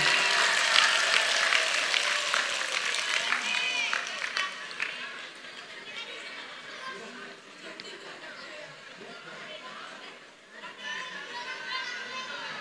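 An audience at a large Islamic religious gathering in Gandusari, Trenggalek, applauds the organizing committee, loud at first and then fading into chatter and children's voices, with a brief renewed swell near the end.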